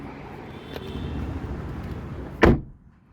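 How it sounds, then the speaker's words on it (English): A heavy car door on a Volkswagen Polo Trendline thuds shut with one solid slam near the end, after a brief click and a soft background hum. "That's a very heavy door third, and it's actually Polo from inside."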